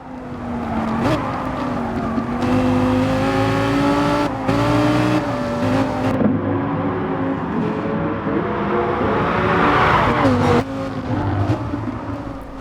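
Lamborghini race car in a racing video game lobby, its engine loud and close, revving and shifting through gears with pitch sweeps and brief tire squeal, under a voice talking.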